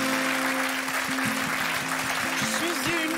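Audience applause rings out in a French television studio, steady clapping heard through a sustained musical tone.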